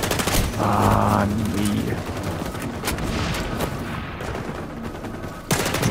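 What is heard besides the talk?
pistol gunfire in XDefiant video game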